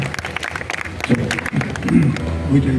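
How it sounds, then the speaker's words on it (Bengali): Audience applause at a live music stage event, a burst of clapping mixed with crowd noise and a voice talking over it through the short stretch. "একটু হাতটা উপরে তুলে হাততালি হবে"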